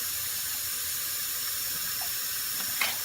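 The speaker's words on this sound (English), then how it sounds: "Let it drain out really well," Water steadily drains and trickles from soaked barley held in a 5-gallon paint strainer, a continuous hiss with a few small splashes near the end and no talk.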